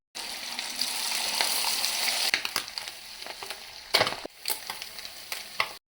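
Marinated Godavari-style methi pakodi batter drops into hot oil and fries with a bubbling sizzle, punctuated by a few sharp clatters and stirring scrapes near the end, with no voices.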